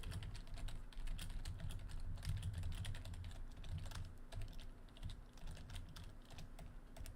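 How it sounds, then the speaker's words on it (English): Rapid keyboard typing, a quick irregular stream of soft clicks and taps over a low background hum, with a brief pause near the end. "the typing sound effect when you display some text"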